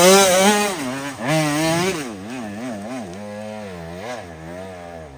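A loud powered auger drills holes in rocky ground, its small engine revving and bogging in repeated wavering surges. It is close and continuous, with no talk.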